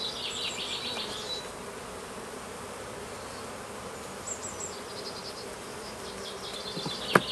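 Honeybees buzz steadily around an open hive as frames are moved during an artificial swarm split, a dense continuous drone close by with a few louder bees passing near and a sharp knock at the end.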